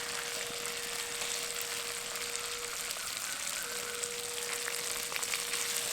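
Mustard paste goes into a pan of spices while cooking Bengali shukto, giving a faint, steady sizzling hiss with a thin, constant tone running underneath.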